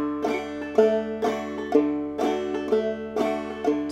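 Clawhammer banjo in a bum-ditty rhythm, thumb alternating between the fourth and third strings, picked notes ringing in a steady lilting pattern, close and clear with no voice.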